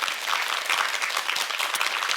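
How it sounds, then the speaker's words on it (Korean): Sustained, dense applause from a lecture audience fills the space evenly, steady and fairly loud throughout with no voices over it. "박수 한번 보내주세요."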